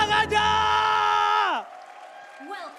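An esports arena crowd at a Mobile Legends match between Rebellion and RRQ lets out a loud, whooping cheer for about a second and a half before it drops away, leaving a faint voice.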